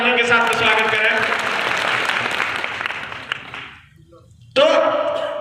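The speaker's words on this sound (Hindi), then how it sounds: "उनका जोरदार तालियों के साथ स्वागत करें" Audience at a political community meeting applauds loudly to welcome a guest, a dense sustained clapping under a speaker's amplified voice that fades out, then speech resumes abruptly.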